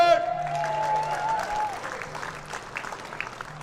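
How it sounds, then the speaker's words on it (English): Cheering and applause from a crowd at an exhibition lawn bowls match, Australia versus the Rest of the World, in Ocean Grove; a single rising whoop opens over a steady, fairly loud wash of clapping that gradually thins out. "Nice big Ocean Grove cheer."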